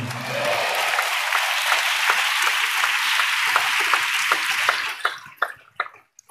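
A church congregation claps in a dense, sustained round of applause that holds steady for several seconds, then thins into a few scattered final claps before fading out.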